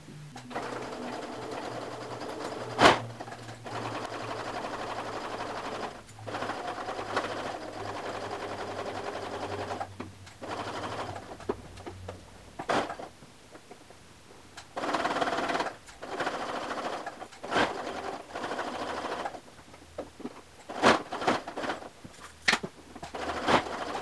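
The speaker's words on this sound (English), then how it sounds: "So we want to sew this seam." A sewing machine stitches a seam across a men's shirt collar sandwiched between yoke necklines, running in steady stretches with brief pauses and a few sharp clicks, moderately close.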